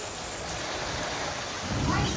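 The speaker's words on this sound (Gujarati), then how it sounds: "વરસાદ જો ભાઈ પડે જોરદારનો છે" Heavy rain pours steadily with a dense broadband hiss, and a low rumble swells near the end like distant thunder.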